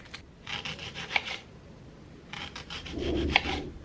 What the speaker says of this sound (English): we sliced up our shallot